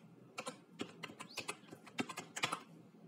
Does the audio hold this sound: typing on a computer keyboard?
yes